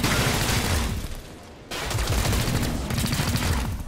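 Gunfire aimed at a mech in the video game XCOM: Chimera Squad, a loud, dense volley of shots that thins briefly before another heavy burst carries on.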